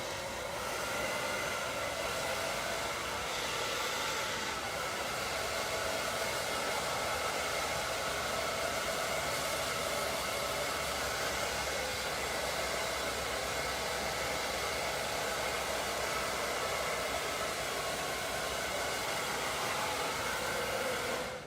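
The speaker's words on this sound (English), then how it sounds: "So I'm going to turn my dryer on." A hair dryer blows steadily and loudly throughout, a continuous close whoosh of air while drying hair during a short layered women's haircut, with no pauses or voices.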